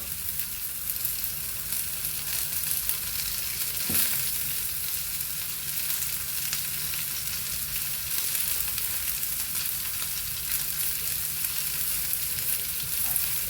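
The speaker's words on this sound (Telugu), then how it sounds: "కరివేపాకు, పచ్చిమిరపకాయలు ఫ్రై అయ్యాయి. అందులోకి ఉల్లిపాయలు వేసుకున్నామండి" Onions frying in oil with curry leaves and green chilies for a Kerala-style chicken dish, a steady loud sizzle and crackle with a single knock of a utensil, no voices.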